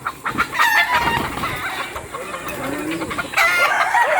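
Chickens on a farm in Unisan, Quezon cluck and squawk in a lively, overlapping cluster nearby, with a rooster-like crow rising toward the end.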